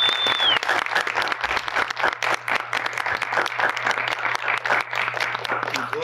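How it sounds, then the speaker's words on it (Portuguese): A festival audience at a talk session breaks into applause, a dense, energetic clapping crowd with individual sharp claps standing out, steady and fairly loud for six seconds, with a faint whistle near the start. "E mais uma salva de palmas."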